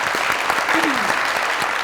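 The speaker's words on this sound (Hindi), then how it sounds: "माशाल्लाह, तालियां।" A studio audience at a Pakistani Eid special television show applauds a singer, a loud, dense and continuous roar of clapping, with a brief voice rising through it midway.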